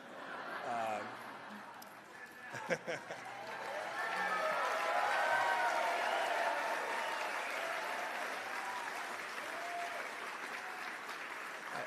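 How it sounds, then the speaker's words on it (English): Gala audience applause swells into a broad wash of clapping after a brief opening, with voices mixed in and some cheering tones riding over it, continuing steadily to the end. "I didn't get any of this applause."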